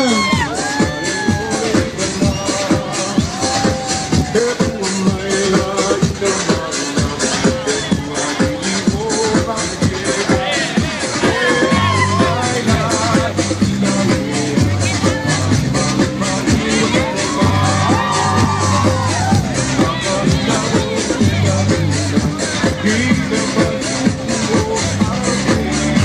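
A large street crowd at a carnival parade in Ensenada cheers, whoops and claps in a dense, continuous roar for the whole stretch, with a speaker talking over it.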